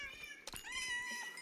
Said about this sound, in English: Look at all the cats I've made, Jules.